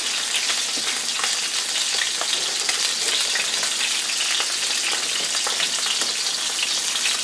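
Pork chops sizzle and crackle steadily in a hot pan, a close, even hiss with scattered pops running throughout, no voices.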